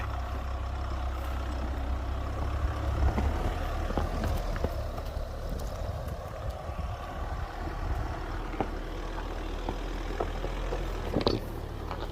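A 2023 Mahindra Scorpio N Z8L with the 2.2L mHawk diesel labouring up a slippery off-road hill, a steady low engine drone with occasional knocks and creaks, continuous and without talk.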